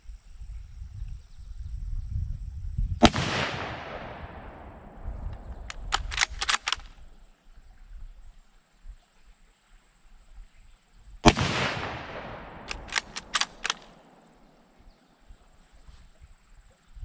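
Two loud, close rifle shots from a Ruger American Ranch chambered in .350 Legend, spaced several seconds apart. Each sharp crack rings out into a decaying tail, followed by a quick series of metallic clicks.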